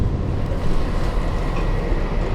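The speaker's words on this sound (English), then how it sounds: "So now we're on the train." Inside a train travelling from Sapporo to Noboribetsu in snowy Japan, a dense, steady rumble of wheels and carriage noise fills the car, loud and continuous with no clear voices.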